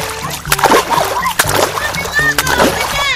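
Water splashing at an outdoor playground, with repeated splatters and sloshes close by, mixed with excited children's voices and talking throughout.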